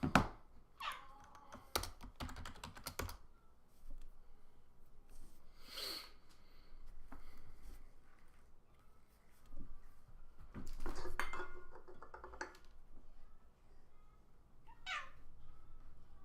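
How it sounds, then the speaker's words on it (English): A couple of short cat meows rise from a room where dishes and cutlery clink and keys tap, all fairly faint with no one talking. "I got my cats in here"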